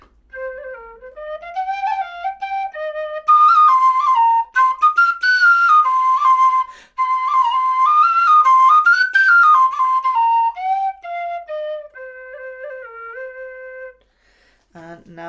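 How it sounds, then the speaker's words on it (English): A tin whistle plays a bluesy melody, solo and close, with loud, sustained piping notes that bend and slide and continue for about fourteen seconds. "I've been playing kind of bluesy stuff to test whistles"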